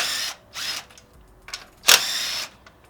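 A power tool zips off bolts on a Subaru WRX intercooler in a few short whirring bursts, close and fairly loud, with pauses between them.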